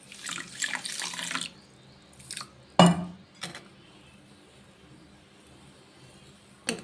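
Water pours from a tap onto sugar in a kitchen vessel, a splashy burst followed by short separate splashes and a few clinks, with quiet gaps between them.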